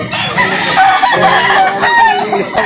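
A rooster crows loudly and close among other clucking chickens at a fowl market in Lipa City, Batangas, the calls overlapping in a busy, crowded mix.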